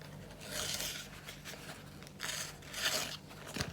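Soft, papery rasping as a sharpened knife drags through paper towel in a few uneven one-handed strokes, close and fairly quiet over a low hum.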